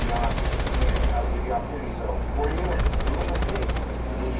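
Rapid automatic gunfire from the video game Rainbow Six Siege crackles in loud, dense bursts with short gaps between them, and a voice talks over parts of it.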